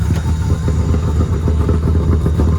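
A car engine fitted with a big cam idles high and loud up close, a steady lumpy, choppy rumble with rhythmic pulsing and mechanical clatter, with no voices over it.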